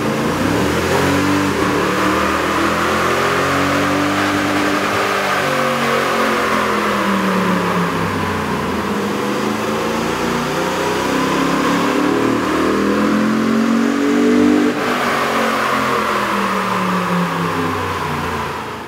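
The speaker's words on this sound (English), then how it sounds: "we ran the vehicle on the dyno to test the sound comparison versus the stock intake" A 2010-2015 Toyota Tundra's 4.6-liter V8 with a K&N cold air intake revs on a dyno, a loud continuous engine roar rising and falling through sweeping pitch changes, steady and close with no talk.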